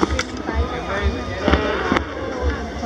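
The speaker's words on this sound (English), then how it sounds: "I was really excited though, there were so many fireworks." Fireworks explode at an outdoor display in the Philippines, a series of sharp bangs and crackles spaced about half a second apart, with people talking excitedly over them.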